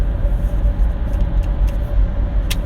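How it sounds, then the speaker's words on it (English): Heavy road traffic streams past, with a dense, steady roar of car engines and tyres close by and no one talking. "Sorry, there's lots of traffic."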